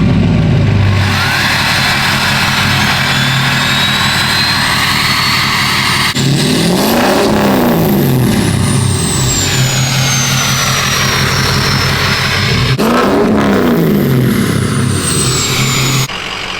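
A Chevrolet Silverado truck's 6.0 V8 idles loudly and steadily up close, with two sharp revs climbing and falling back about six seconds apart.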